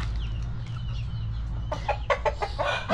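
Backyard farm chickens cluck in a quick series of close, loud calls in the second half, over a low constant hum of background noise, with no one speaking.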